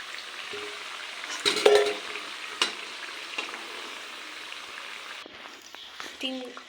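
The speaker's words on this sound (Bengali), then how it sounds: "সবগুলো ভেজে নিব আমি আস্তে আস্তে করে" Sesame and coconut filled pitha frying in hot oil, a steady low sizzle with brief louder bursts and scraping stirs as pieces are moved, close by with quiet background.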